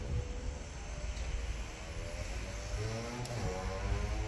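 InterCity train 14894 pulls into the platform at Schwarzach-St. Veit station, a steady low rumble with rising and falling whining tones as it approaches.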